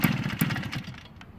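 A tiny Suzuki 125 two-stroke mini bike engine runs with a rough, buzzing putter, then quickly sputters and fades out as it dies, heard close with no talking.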